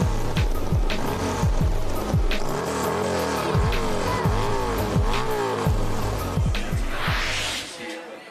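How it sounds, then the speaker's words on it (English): Harley-Davidson motorcycle engines at an X Games snow hill climb, loud and close, with repeated revving sweeps rising and falling over a rapid rumbling idle. Engine noise fills the whole stretch. "it's time to fire these bikes up here at the Harley-Davidson Snow Hill Climb"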